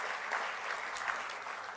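An audience at a public lecture gives a round of applause for two governors and students, dense sustained clapping that holds evenly from start to finish.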